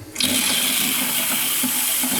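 Hot water gushing steadily from a freshly fitted tap in a home-built bathhouse, a sudden loud onset followed by continuous close, even rushing flow with no voices.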